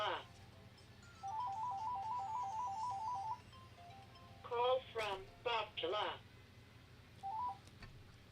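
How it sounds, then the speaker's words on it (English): A mobile phone rings in an office setting with a short electronic tone pattern, followed by louder bursts of rapid warbling ringtone notes and one brief final chirp, heard close over a low steady hum. "I left the phone on in case for the George thing"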